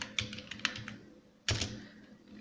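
Code typed on a computer keyboard in a Laravel Livewire session: a few scattered key taps, then a firmer clustered strike near the middle, close and moderately quiet with a steady background hum, no talking.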